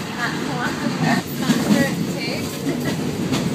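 A train in Thailand near Khao Yai rumbles along the rails at night with a steady low roar and faint rhythmic clatter, as people talk over it.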